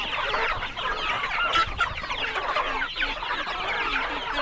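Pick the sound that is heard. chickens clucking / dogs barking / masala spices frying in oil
chickens clucking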